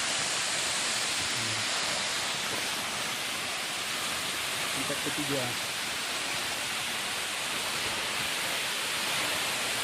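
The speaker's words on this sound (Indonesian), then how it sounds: "air terjun tingkat ketiga." Lae Singgabit waterfall in Pakpak Bharat, seen at its third tier during low water, gives a steady broadband rush of falling water throughout, with a few spoken words briefly over it.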